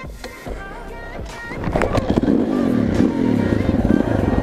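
A KTM 625 SMC motorcycle starts up and its engine revs, rising from a lower rumble to a loud, close, rough throttle blip that holds steady.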